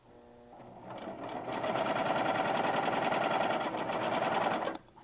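A serger sews a cover stitch hem on a basic shirt, starting with a brief low hum and then running at steady speed in a fast, dense whir before stopping abruptly near the end.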